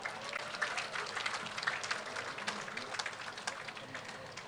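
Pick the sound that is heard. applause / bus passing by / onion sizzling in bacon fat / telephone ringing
applause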